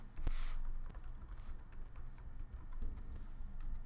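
A password being typed on a computer keyboard, a quick steady patter of close, soft keystrokes with a few heavier taps, and no voices.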